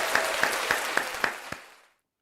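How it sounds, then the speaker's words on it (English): A brief burst of audience applause on a live talk show, a few distinct claps standing out over a dense patter, dying away after about two seconds. "another round of applause for you."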